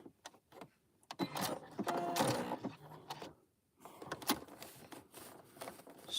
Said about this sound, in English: Okay, now we're going to double stitch